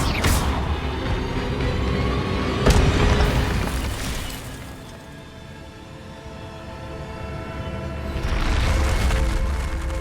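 Incendio fire spell cast in the video game Hogwarts Legacy: a loud whooshing, rumbling burst with booming impacts, fading and then swelling again over a dense game soundscape.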